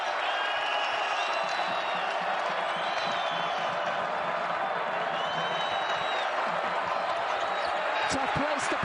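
Basketball arena crowd at a Marquette vs Villanova game roars and cheers steadily throughout, loud and dense, with a sports commentator talking over it.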